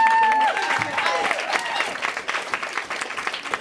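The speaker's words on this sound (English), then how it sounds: "Can we have a round of applause for all of the brave people?" An audience at a poetry event applauds for performers, a dense burst of clapping that thins into scattered louder claps over a few seconds.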